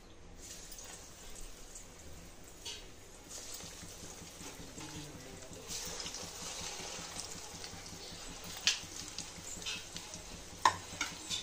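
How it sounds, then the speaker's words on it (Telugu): Bread rolls fry in hot oil in a kadai with a soft, steady sizzle and light crackling, faint and close, with a few sharper pops and ticks toward the end. "ఫ్లేమ్ని మీడియంలో పెట్టి ఫ్రై చేసుకోవాలండి."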